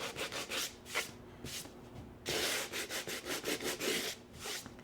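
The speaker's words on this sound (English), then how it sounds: "we just sand through, add a little bit of distress to some of the blocks" Sandpaper rubbing over wooden blocks to distress the surface, a close, steady run of rasping strokes in bursts, then a quicker rhythmic series of back-and-forth scrubs.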